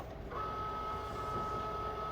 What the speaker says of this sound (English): And now I need to turn on my Cricut by pressing the power button.